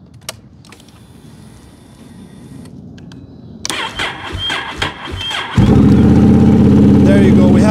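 A Honda Rebel 1100 motorcycle, just revived after a dead battery, clicks and cranks with the starter, then fires into a loud, close, steady idle.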